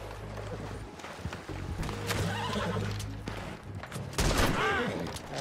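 A Morgan horse in Red Dead Redemption 2 whinnies loudly near the end, over clip-clopping hooves, gunfire and game ambience, with someone talking in places.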